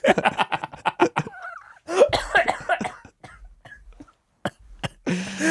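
A podcast host in Finnish conversation lets out several sharp, dry coughs close to the microphone. Talk comes before the coughs and resumes after them, with quiet pauses in between.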